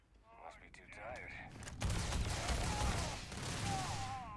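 Rapid automatic gunfire from the video game Starfield erupts into dense, sustained bursts after a brief quieter opening, loud and continuous, with someone talking over the shooting.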